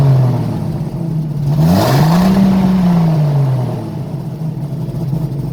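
An old Ford car with a Rochester carburetor, a smoking exhaust and a starter needing shims, starts up close by. The engine whines up, revs and then settles into a steady running hum.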